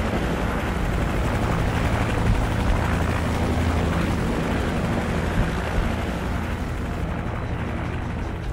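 Call of Duty 4 helicopter rotor noise, a constant heavy whirring drone that stays loud and close throughout, with rumbling low end and no speech.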